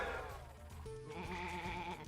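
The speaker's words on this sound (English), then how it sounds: "Come here, little sheep." Sheep bleating in the Sheep Raider video game, a wavering animal cry rising over steady game music and ambience, loud and close throughout the short stretch.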